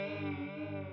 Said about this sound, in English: You hear a different type of warbling